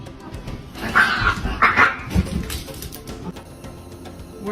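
A dog barks a few short, sharp times in a cluster, fairly close, over a noisy background, with a quick yip near the end.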